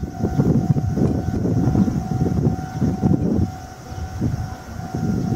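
A railway crossing signal on the Meitetsu Nagoya Main Line near Kasamatsu Station rings with steady, sustained electronic tones as a train approaches, over a heavy low rumble of rail traffic and outdoor noise, with no talking.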